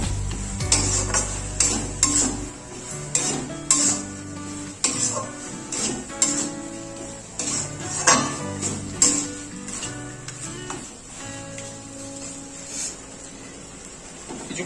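A spoon repeatedly scrapes and knocks against a pan while chicken varta with melon seed paste is stirred. The clinks and scrapes are close and irregular, with background music playing and no speech.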